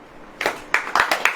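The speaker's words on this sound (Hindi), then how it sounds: "ताली बजाओ" A church congregation clapping during a sermon: a few sharp, separate claps in a loose rhythm, close and fairly loud over a quiet background.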